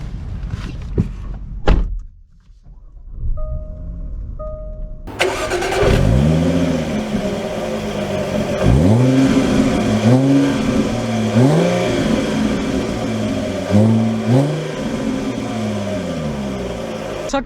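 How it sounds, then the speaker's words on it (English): A Jaguar XF Sportbrake station wagon is started after a door thud, its engine catching with a whirr and then running steadily before pulling away with several rising revs through the gears, close and clear. "let's take it out, see how it drives."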